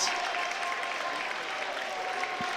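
Applause from basketball fans in a high school gym on senior night, a steady, dense wash of clapping that fills the whole stretch at even strength with no talk on top.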